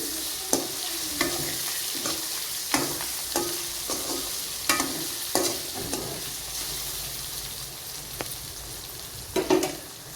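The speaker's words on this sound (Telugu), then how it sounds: "నూనెలో మంచిగా గోలనివ్వాలి దీన్ని" Telangana-style curry frying in oil, a continuous close sizzle punctuated by repeated scraping knocks of a ladle stirring the pan at irregular intervals.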